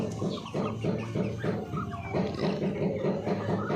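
Young hens cluck in a backyard farm, a steady, rhythmic run of low clucks from several birds close by with brief higher calls scattered among them.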